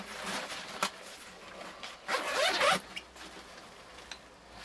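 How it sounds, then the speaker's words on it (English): Zippers on a 5.11 Rush 72 backpack are pulled open, with a short zip and then a longer, louder rasping run, followed by quieter handling and small clicks. The sound is close and there is no talking. "Zips everywhere."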